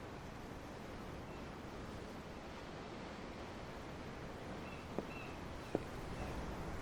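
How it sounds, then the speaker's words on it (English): Ocean waves in the video game Tales of Arise, a quiet, steady wash of surf and wind with no break, marked by two faint clicks near the end. "The waves. They help me think."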